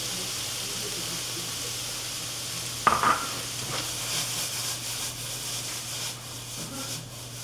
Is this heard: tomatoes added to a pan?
yes